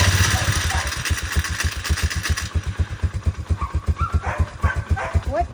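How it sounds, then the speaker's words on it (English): Four-wheeler engine running with its clutch clattering, a fast rhythmic knocking pulse close by that continues throughout, with background noise fading partway. "It's the clutch, Mom. It's supposed to clatter."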